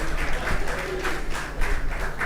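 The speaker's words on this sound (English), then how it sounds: "Another round of applause for" A research conference audience gives a round of applause, dense clapping from many hands heard at moderate distance, with faint crowd murmur and rhythmic bursts of louder claps.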